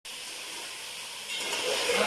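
Chicken browning in a pan for chicken tinda masala makes a steady bright hiss that grows a little louder and rougher partway through.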